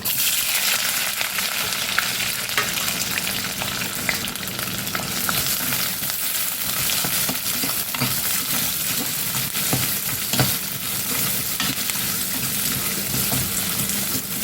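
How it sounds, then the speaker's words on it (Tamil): Sliced onion and green chillies fry in hot oil with a steady, dense sizzle that stays loud and close throughout, and no one speaks. "வெங்காயம் நல்லா சவுண்டு வரட்டும்"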